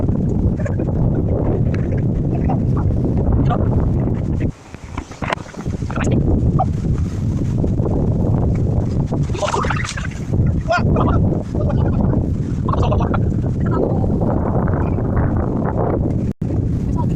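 Steady wind rushing past a microphone on a day hike up Mt. Arayat, loud and continuous, with a voice speaking intermittently over it.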